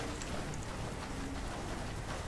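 Rain falls in the video game Path of Exile, a faint, steady patter and hiss heard alone at low volume.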